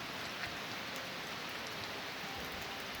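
Steady rain falls continuously, a dense even hiss of drops on surfaces with no voices.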